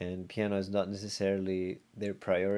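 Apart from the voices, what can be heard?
No distinct noise like a dog, phone or traffic.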